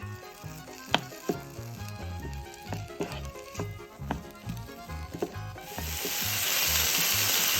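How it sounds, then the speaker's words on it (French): Smoked bacon bits and finely chopped onion fry in a pan without added fat, with wooden stirring and scraping knocks at first before a loud, steady sizzle takes over. "Dans une poêle, je mets les lardons fumés, sans matière grasse évidemment, et l'oignon finement coupé."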